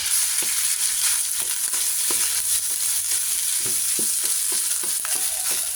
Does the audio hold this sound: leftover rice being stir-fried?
yes